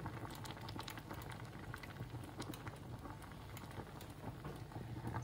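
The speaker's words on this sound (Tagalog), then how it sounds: "So, ayan, kumukulo na." Pot of sinigang soup with shrimp, pechay greens and squash blossoms boiling steadily, a continuous close bubbling and popping texture with no talk.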